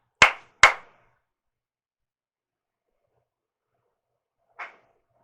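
Two sharp, close hand claps in quick succession, then a long silence and a single fainter clap, heard inside a reportedly haunted house at night.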